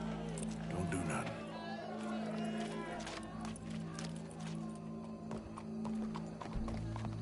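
Horse hooves clip-clop steadily in Red Dead Redemption 2, a close rhythmic trot over a constant low hum, with a horse whinnying and game voices in the background.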